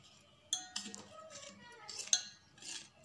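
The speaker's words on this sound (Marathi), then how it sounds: "हे सर्व आता आपण मिक्स करून घ्यायचं आहे व्यवस्थितपणे" A spoon clinks and scrapes against a bowl while ingredients for homemade chocolate ice cream, including powdered sugar, are mixed, with several quiet metallic taps and stirring scrapes heard close by at low volume.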